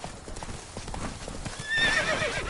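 Roach the horse galloping in The Witcher 3, rapid rhythmic hoofbeats pounding close by, with a short whinny near the end.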